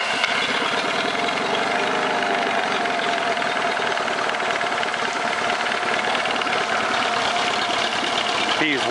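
A 1990 Honda 15 hp four-stroke outboard motor idles steadily after an electric start, with water running, giving a continuous close mechanical drone that stays level throughout.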